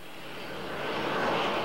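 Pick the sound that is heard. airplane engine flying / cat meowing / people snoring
airplane engine flying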